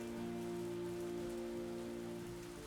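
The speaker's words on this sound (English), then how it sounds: "After the bomb and explosion, black rain fell." Steady rain, the black rain falling over Hiroshima after the atomic bomb explosion, pours down as a soft, even hiss of drops on surfaces, quiet and unbroken, with no voices.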